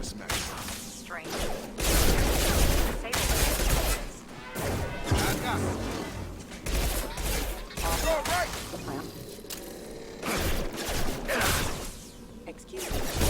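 Gunfire and combat noise in the Mass Effect 2 video game: repeated crashing impacts and shots layered with whooshes, continuous and loud, with speech running over the action.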